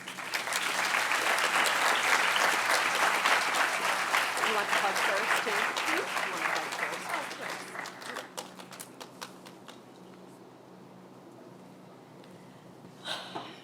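An audience at a university physical therapy white coat ceremony breaks into loud, sustained applause welcoming a speaker, the clapping thinning and fading over several seconds before a brief scattered burst at the end.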